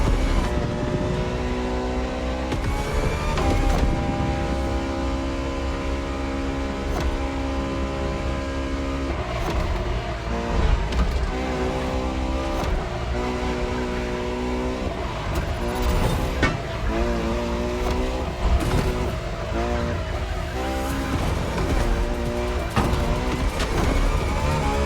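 A Ferrari LaFerrari hybrid supercar with a kinetic energy recovery system, driven in The Crew Motorfest, its engine droning loudly and continuously for the whole stretch, pitch rising and dropping as it revs and shifts.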